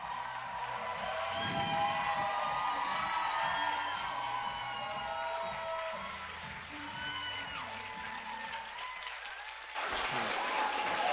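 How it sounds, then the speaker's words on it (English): A comic convention crowd at an Agents of S.H.I.E.L.D. panel at MCM London Comic Con bursts into sustained applause with cheers and whoops. The loud, dense clapping runs steadily and swells again near the end. "London, round of applause from Agents of S.H.I.E.L.D."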